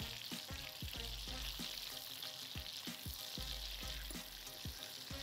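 Butter melts and sizzles in a wok while steak is stir-fried, a steady close frying hiss punctuated by regular scraping stirs roughly twice a second.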